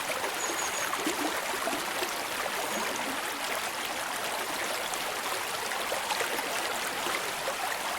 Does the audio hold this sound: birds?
no